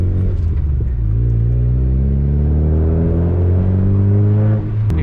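A 1.6 litre Mazda MX-5 MK2 accelerating on the road, a loud, close engine drone that rises steadily in pitch through the gear before easing off near the end, with no voices.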